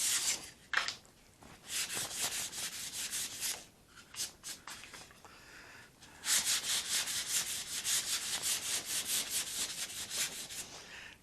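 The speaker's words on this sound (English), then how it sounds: "you can hear the difference in the sanding noise" Steady rhythmic rubbing of 320-grit sandpaper on a hard surface, close and fairly quiet, in repeated strokes with brief pauses between.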